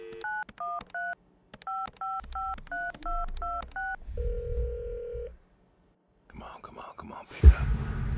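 Telephone keypad tones in the video game Adios, a quick series of distinct dialing beeps in short bursts followed by a steady ringback tone, then faint movement and rustling.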